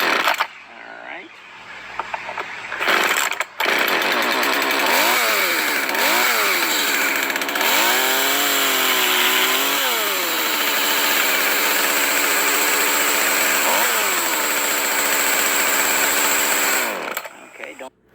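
A chainsaw fitted with a Timber Tuff guide is pulled to a start and then runs loudly up close, its engine revving up and down in repeated surges with a steady buzzing drone, and people talk over it.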